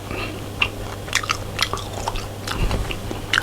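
Close, crisp biting and wet chewing of a marinated Chinese-style meat snack, soft irregular crunches and mouth sounds repeating steadily with no talking.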